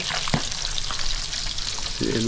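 Mung beans fry with a steady, crackling sizzle from a pan. A utensil knocks and stirs now and then, and a voice comes in briefly near the end.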